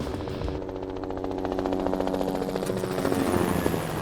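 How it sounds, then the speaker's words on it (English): A helicopter's turbine whines and builds steadily while spinning up, rotor chop and engine roar growing louder and closer over a few seconds, at a heli-skiing lodge in Alaska's Tordrillo Mountains. "getting in the helicopter again and hearing that turbine engine spin up and taking off and landing on a peak"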